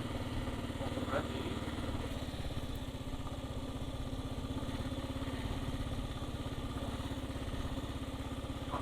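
A Kawasaki KLR 650 motorcycle engine runs steadily and close by on a Colorado wilderness trail, a continuous low rumble with rapid firing pulses that holds even throughout.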